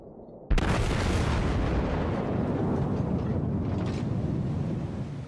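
Battleship guns firing in World of Warships, a sudden loud boom followed by a sustained, rumbling roar that slowly fades over several seconds.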